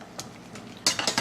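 Broccoli is stirred in a pot, first with a couple of soft scrapes, then a louder cluster of metallic clinks and scraping knocks near the end, close and fairly quiet.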